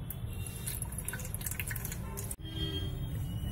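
Liquid from crushed crabs dripping and trickling as it is strained by hand for a Kolhapuri-style crab curry, a continuous wet splashing close by with a brief break midway.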